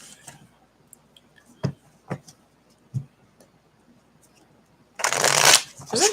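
Tarot cards riffle-shuffled in a dense, loud burst near the end, after a stretch of sparse soft taps and card handling.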